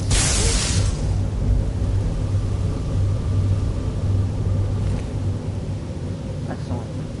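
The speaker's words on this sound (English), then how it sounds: "Lightning bolt." Lightning bolt spell cast in Skyrim, a loud crackling electrical burst at the start that fades into a sustained low rumble beneath game ambience.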